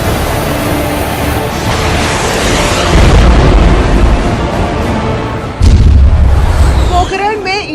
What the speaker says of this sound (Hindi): इंडियन एयरफोर्स का फायर पावर, वायुसेना के फाइटर्स का फायर पावर देखिए।